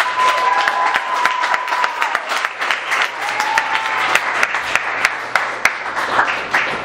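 An audience at a youth poetry slam in Tucson claps and applauds for the poets, a steady burst of many hands close by that carries on for several seconds.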